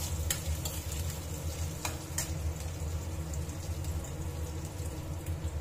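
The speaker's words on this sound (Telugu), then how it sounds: "కొంచెం కరివేపాకు కూడా వేసి ఫ్రై చేసుకుందాం." Onion, torn dried red chillies and curry leaves fry in a pan for broccoli and green peas fry, a steady close sizzle with faint stirring clicks throughout.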